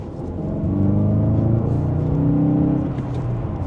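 Engine of a 2024 Volkswagen Golf GTI accelerating back up to speed after a tight U-turn, heard from inside the cabin as a steady, rising rumble and hum that swells and holds, with no talk.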